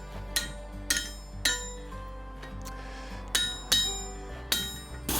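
A blacksmith hammers a steel hook loop over an anvil edge and a cone-shaped mandrel: seven sharp, ringing metallic strikes at an irregular pace, each with a short bright ring-out, over a low steady hum.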